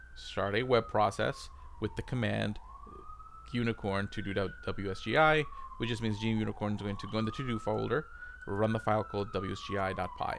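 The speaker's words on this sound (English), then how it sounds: "if you hear the sirens in the background, I live in Brooklyn. There's always a lot of sirens." An emergency vehicle siren on the streets of Brooklyn rises and falls slowly in the distance beneath someone talking steadily indoors in the foreground.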